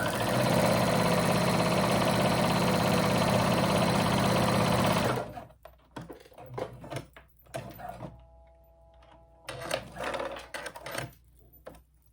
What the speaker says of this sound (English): and then I'm going to go ahead and sew again